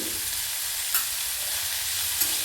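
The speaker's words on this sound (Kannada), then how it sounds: "ಹಾಗೆ ಈರುಳ್ಳಿನ ಸ್ವಲ್ಪ ಫ್ರೈ ಮಾಡ್ಕೊಳ್ಳೋಣ." Onions and curry leaves sizzle and fry in a pan after mustard seeds have popped, a steady close hiss with a couple of faint stirring scrapes and no talk.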